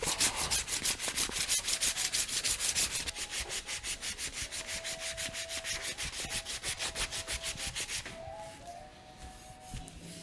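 Rhythmic scratchy rubbing of sandpaper worked back and forth by hand, steady strokes, close up, softening toward the end.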